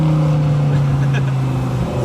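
An Audi R8 V10 exhaust revs loud and close, a steady deep engine drone with a brief swell in the middle, lasting about two seconds.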